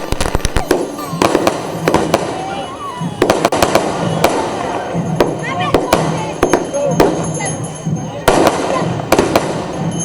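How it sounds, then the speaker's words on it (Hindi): Fireworks bursting during the Bastar Dussehra procession as the deity is carried through streets showered with flowers, with repeated sharp cracks and bangs in irregular bursts over a busy crowd, and voices heard throughout. "सड़कों पर फूल वर्षा के साथ जमकर आतिशबाजी के बीच"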